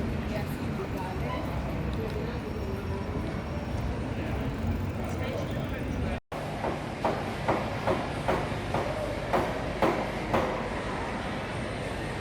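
A train at a railway station on a trip to Chester: a steady rumble with a run of rhythmic clacks in the second half, under a person talking.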